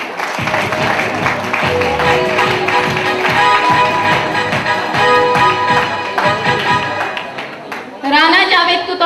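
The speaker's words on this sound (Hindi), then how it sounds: "तालियां।" Applause at a farewell party, a crowd clapping in a steady patter, with voices talking over the clapping and a louder burst near the end.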